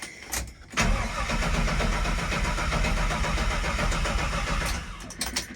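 A Squarebody Chevy truck engine with no spark cranks loudly and steadily for several seconds without catching, the starter grinding close by before cutting off.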